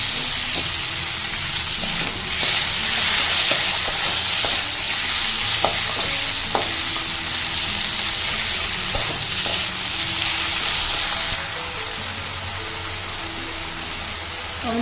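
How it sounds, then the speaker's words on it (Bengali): Chopped tomato sizzles in a hot pan for a Bengali fish and potato curry while it is stirred, a dense continuous frying hiss with intermittent light scrapes and taps of the spatula, close and without talk. "এবার এটা আমি দিয়ে দিচ্ছি টমেটো কুচি দিয়ে এটাকে আমি হালকা করে নেড়ে নেব"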